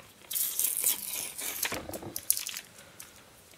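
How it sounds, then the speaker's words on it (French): Strong adhesive tape being peeled off a cube's cardboard box, giving a few short ripping, crackling tears in bursts over several seconds, close and fairly quiet, with no voices. "Il y a deux petits scotch à enlever. C'est des petits scotch qui collent fort"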